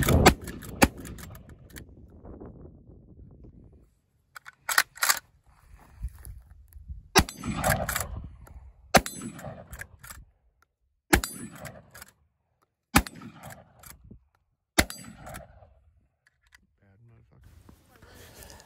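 A 10 gauge shotgun loaded with mild smokeless shells fires a string of sharp, sudden blasts spaced a couple of seconds apart, with people talking quietly between the shots.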